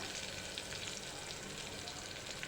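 Finely chopped tomatoes and onion sauté in a pan for a Kathiyawadi stuffed brinjal curry, giving a steady, even sizzle that fills the moment with faint stirring. No voices are heard.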